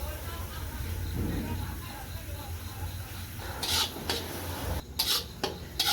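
A pan of upma gets stirred as onion, cabbage and chopped carrot are mixed in, giving a steady scraping and rubbing with occasional sharper spoon knocks near the end, under low background noise.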